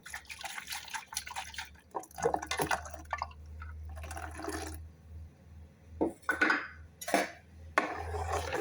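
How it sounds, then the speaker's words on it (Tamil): Blender jar being rinsed and filled with water in a kitchen, close splashing and dripping with clinks of the glass jar, in uneven bursts and pauses and no talk. "இந்த ஜாரை கழுவி தண்ணி ஊற்றுவோம்"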